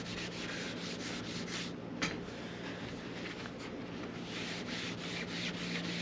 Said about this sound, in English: And you just want to rub that out good every time.